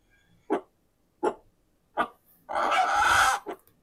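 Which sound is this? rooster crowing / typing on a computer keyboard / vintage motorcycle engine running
rooster crowing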